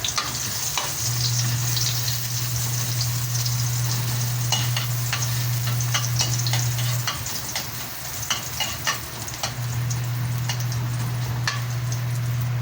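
Ginger frying in a little cooking oil gives a steady crackling sizzle with scattered pops and spatters, while a low hum runs beneath for long stretches; nobody speaks.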